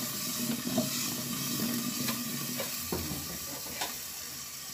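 Covered pan of baby potatoes frying in oil, shaken on the stove, a steady sizzle with scraping, rattling bursts and faint clinks of the lid, close up with no talking.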